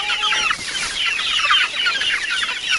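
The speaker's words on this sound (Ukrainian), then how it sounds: "Ось мої старші курчатки, ой, менші курчатки" Young chickens cheep and cluck continuously in a busy, high-pitched chorus, close and fairly loud, with no talking.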